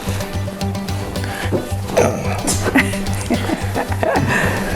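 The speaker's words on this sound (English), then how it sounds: "this is my dog Titus" A dog barks a few scattered times outdoors on a rural property, the barks fairly close over a steady low background hum.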